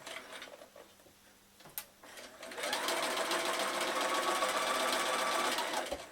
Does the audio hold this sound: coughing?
no